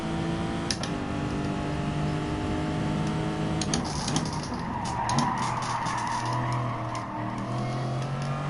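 A race car braking hard with tires skidding, engine roaring steadily throughout with a rising screech of rubber partway through, loud and close.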